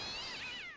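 A single high, drawn-out cat meow from The Great Ace Attorney Chronicles, a short bright wavering cry heard alone and close.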